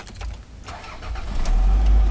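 A 2004 Toyota Camry set up for injected gas with a fuel pump cutoff cranks briefly and starts, the engine swelling into a loud, steady idle close by.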